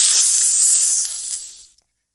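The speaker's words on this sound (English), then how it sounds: "snake," A snake's hiss, one long breathy and loud close hiss that tapers off and stops abruptly near the end, leaving silence.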